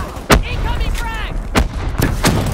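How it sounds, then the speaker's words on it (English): Frag grenade blasts and gunfire in Black Ops III, with several loud, sharp bangs spaced irregularly and a brief voice-like game sound between them. "Incoming frag!"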